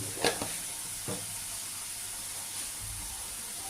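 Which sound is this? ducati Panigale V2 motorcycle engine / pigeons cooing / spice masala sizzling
spice masala sizzling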